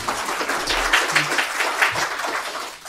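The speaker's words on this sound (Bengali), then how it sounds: "তাহলে মনে সুখে হাততালি দাও" An audience of aspirants at a session at Belur Math, Ramakrishna Mission, claps together, giving a diffuse, moderately loud patter of many hands that continues steadily.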